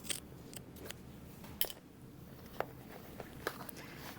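Scissors snip pouch lining fabric in a few sparse, quick cuts, close and quiet over a faint room background with no voices.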